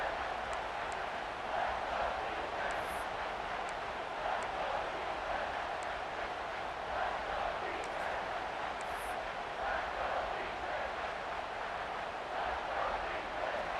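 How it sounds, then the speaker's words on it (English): Stadium crowd in EA Sports College Football during an Ohio State versus Georgia game, a steady, distant roar of cheering that swells slightly in waves beneath commentary. "Third down and the crowd really getting into it."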